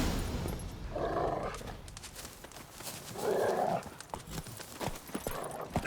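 Geralt's horse Roach in The Witcher 3 gallops with rhythmic clip-clopping hoofbeats at moderate loudness, mixed with ambient game sound.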